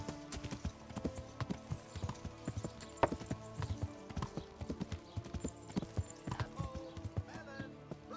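Horse hooves clip-clopping at a gallop in the medieval role-playing game Kingdom Come: Deliverance, a steady rapid drumming of close, loud footfalls throughout, with an occasional whinny-like sound.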